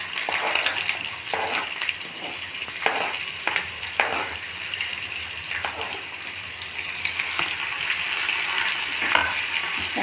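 Onions frying with garlic and dried red chillies in a pan for gongura chutney, a continuous hissing sizzle with scattered soft stirring scrapes, moderately close and without talk.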